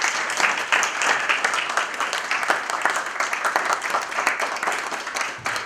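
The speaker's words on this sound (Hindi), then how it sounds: "एक बार जोर से तालियां हो जाए।" An audience applauds loudly at a stage event honouring a guest, a thick, continuous roar of many hands clapping at close range that holds steady before easing off slightly at the end.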